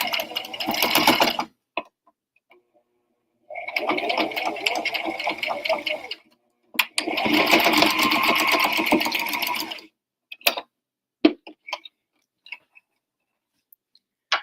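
A sewing machine runs in three bursts of rapid, steady stitching, separated by pauses with a few faint clicks.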